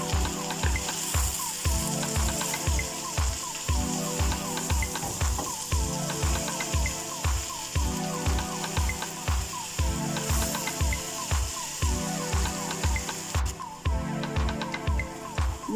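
Aloo parwal sabji, potatoes and pointed gourd in masala, fries in a pan while being mixed. A regular, repeating scrape-and-sizzle rhythm of stirring continues at moderate loudness for the whole stretch, with no voices.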